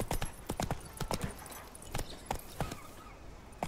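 Roach the horse's hooves clip-clop in The Witcher 3, a quick irregular run of sharp hoof strikes at close range, fairly quiet, with faint background game ambience and no talk.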